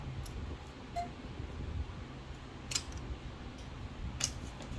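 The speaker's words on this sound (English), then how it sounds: "if you cut these really slow going across with your scissors, they have a tendency not to split" Scissors snip slowly across Dollar Tree craft material for a pumpkin roadside stand, a few sparse crisp cuts spaced out over quiet room noise.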